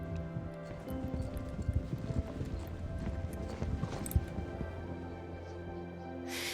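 Horse hooves clip-clop steadily in the Star Stable Online video game, a busy run of soft, overlapping footfalls over a game soundscape, with no voices.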